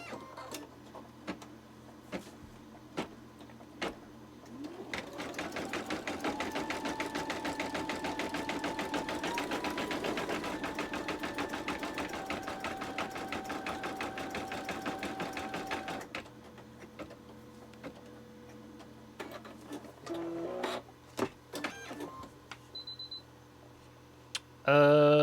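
A Babylock sewing machine stitches in a steady, rapid mechanical whir of about eleven seconds, starting and stopping cleanly, with quiet clicks and handling noises before and after.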